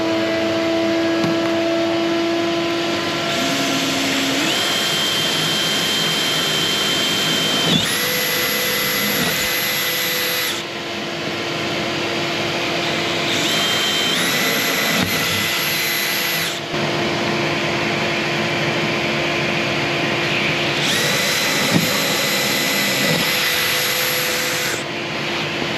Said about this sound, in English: I'm gonna have Jay turn on the shop vac and he's gonna suck all the shavings up while I'm drilling holes